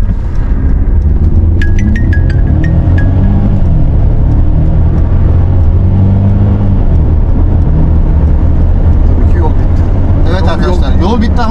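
A Mercedes GLC 250 Coupe 4Matic in Sport Plus mode accelerates hard from a standstill to 100 km/h, the engine a steady loud rumble from inside the cabin, with people talking throughout.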